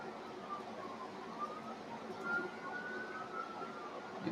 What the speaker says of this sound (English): You might hear some sirens in the background.